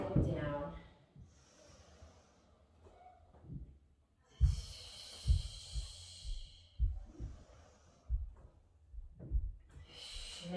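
Breath pushed out during a Pilates Reformer workout, several audible exhales and breaths spaced a few seconds apart, close and fairly soft, with quiet clunks of the carriage between them.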